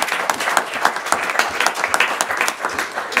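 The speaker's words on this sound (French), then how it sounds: "Merci Leonardo, je crois qu'on peut l'applaudir." A modest audience claps after a talk at an academic colloquium on retirement savings, a close, sparse patter of individual hand claps with clearly separate strikes.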